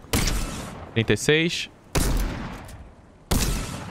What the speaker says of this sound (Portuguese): dar tiro nele daqui de cima